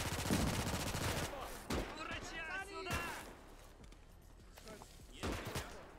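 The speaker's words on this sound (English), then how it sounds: "Grenades are getting tossed everywhere right here." Bursts of gunfire and grenade blasts ring out in a chaotic online roleplay shooter game, sharp irregular cracks and thumps spread across the clip, mixed with a player's excited voice.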